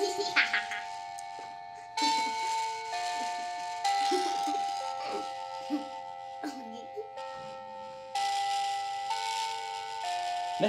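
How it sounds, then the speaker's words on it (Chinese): A school bell ringtone plays as repeated electronic chime tones in bursts with short gaps, moderately loud and close, mixed with children's voices and light handling noises. "你系咪呢个铃声啊？"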